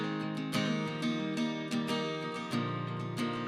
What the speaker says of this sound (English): we have some more acoustic guitar on the last chorus.